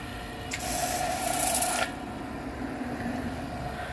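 A Kranzle pressure washer fitted with a turbo nozzle starts up with a burst of loud hissing spray that cuts off after about a second, leaving a steady, fairly quiet motor hum running underneath.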